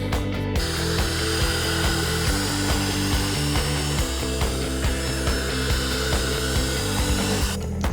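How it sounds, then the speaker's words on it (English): A loud, steady motorized whine runs almost the whole time, with rhythmic rattling pulses underneath, as a Ryobi SWIFTClean RSC18 cordless wet vacuum lifts a spill up close. "activate the vacuum suction by pressing the power button and pull towards to lift the spill"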